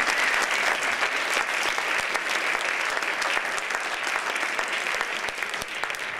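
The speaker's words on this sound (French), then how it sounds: "Je vais vous demander de les applaudir maintenant pour leur donner du courage." An audience in a hall claps steadily and loudly to encourage students, a dense continuous patter of many hands that holds at a constant level throughout without any speech.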